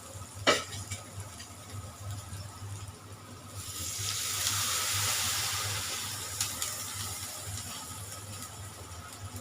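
Water poured into a cooking pan holding turmeric, coriander, red chilli powder and flour, a soft rushing pour and hiss swelling in the middle and fading, after a sharp clink at the start.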